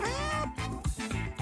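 A cat meows in a long, wavering cry followed by a few shorter meows, loud and close, with no voices over it.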